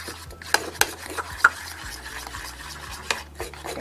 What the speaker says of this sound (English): When you mix it, you gotta make sure that all the white powder is gone.